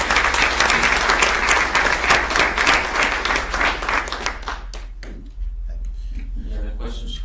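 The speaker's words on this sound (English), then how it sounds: "So please give our administrators and teachers a big round of applause." An audience at a board meeting gives administrators and teachers a loud, sustained round of clapping for about four seconds, which then fades away under a low steady hum.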